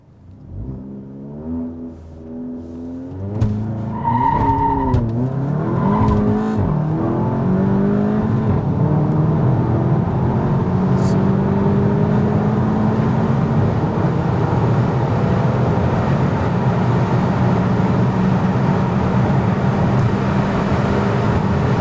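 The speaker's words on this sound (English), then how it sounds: "Traction's actually not bad at all. Like it wheel spins" A Stage 2 tuned VW Golf Mk7 GTI launches with wheel spin, its engine rising from idle into a loud, sustained climb through the gears, heard from inside the car.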